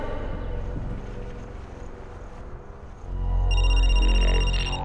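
After some low background noise, a telephone starts ringing loudly with a steady electronic tone near the end.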